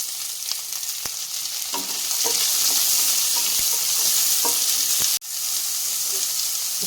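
Sliced onions sizzle steadily in hot oil for rava upma, with a constant loud frying hiss and occasional scraping stirs of a spoon in the pan. A sharp clank comes near the end.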